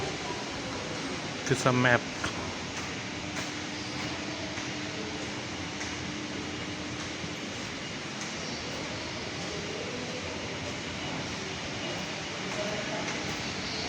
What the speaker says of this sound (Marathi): हे अंडरग्राऊंड मेट्रो आणि मेट्रो आली वाटतं आता जस्ट